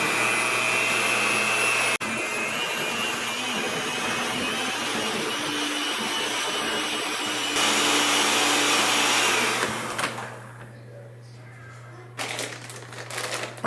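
An electric mixer whirs steadily and loudly through wet holiday dessert batter, a continuous motor drone that changes pitch partway through, then cuts out and leaves some quieter clatter.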